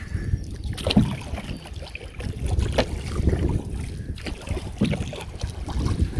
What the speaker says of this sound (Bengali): জ্যোতিলগ্ন নৌকা বাজছে নৌকা চলছে তীর বেগে